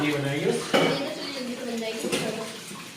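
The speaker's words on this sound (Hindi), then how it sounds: "ये बहुत अच्छे बर्तन धोती है" Dishes, pots and cutlery are washed by hand in a home kitchen, with steady clinking and scraping up close and a couple of sharper clatters, while voices talk over it.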